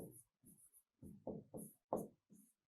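Chalk or marker writing on a classroom board during a Grade 7 science lesson, heard as short bursts of strokes with quiet gaps between them, fairly faint and with no talking.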